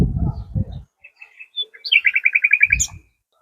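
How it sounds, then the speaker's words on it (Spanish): Birds singing beside the Vinalopó river path near Elche, a close bright trill of rapid repeated chirps plus a few scattered tweets, with brief bursts of low noise at the start and end. "aquí rodeados por el canto de los pájaros"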